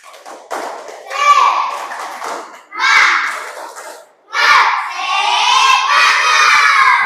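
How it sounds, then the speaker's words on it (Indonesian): Children perform a rhythmic spirit clap chant in bursts of clapping and shouted chanting, loud and close, with short pauses between phrases and an adult voice briefly heard. "kita coba dulu dengan semangatnya, dengan tepuk semangat"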